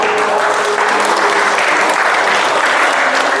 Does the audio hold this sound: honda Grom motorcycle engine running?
no